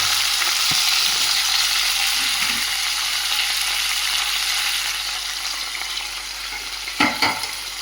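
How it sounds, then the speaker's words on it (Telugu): Chopped veldt grape (nalleru) stalks sauté in oil, a dense, even sizzle close by that eases slightly over time, with a couple of sharp clinks from stirring near the end. "నల్లేరు కాడల్ని విడిగా మగ్గించాలన్నమాట."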